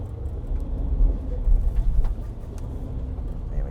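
A Ford Everest Tremor climbs an off-road slope, its engine giving a steady low rumble with uneven surges and faint clunks as traction control works, heard from inside the cabin with no talking.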